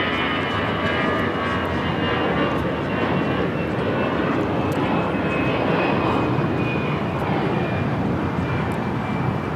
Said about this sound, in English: This is Delta Airlines 2568 taking off to San Antonio on the A319